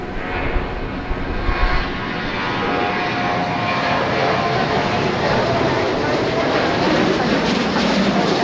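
A Delta Airbus A319 airliner arrives at Dallas Love Field, a loud continuous jet engine roar that builds and holds steady, with nearby chatter heard early on.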